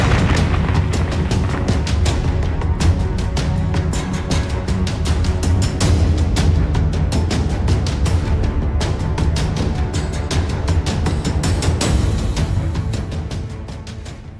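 Loud, sustained barrage of booming explosions and artillery-like blasts, dense and continuous for the whole stretch with no talking, used as a dramatic effect for revealing a painted miniature figure.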